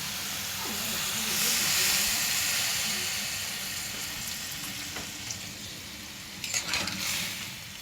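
Water poured into a pan of frying poppy seed and potato curry with lentil dumplings, a steady broad sizzle and hiss that swells early, then eases, with a few sharper spits and bubbles near the end; no talking.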